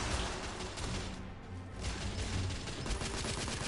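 Dense video game gunfire from The Order 1886, loud rapid bursts of shots with booming impacts running continuously and briefly thinning midway, no talk.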